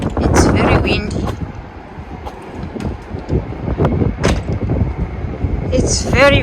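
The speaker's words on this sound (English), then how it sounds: "It's very windy." Strong outdoor wind buffets the microphone with heavy low rumble and gusts, while a person talks over it throughout.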